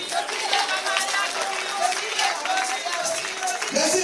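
Hall audience applauding to welcome Jean Marie Angoua, president of the Ivorian diaspora in the United Kingdom, with a sustained, fairly loud wash of clapping that continues throughout while voices talk over it.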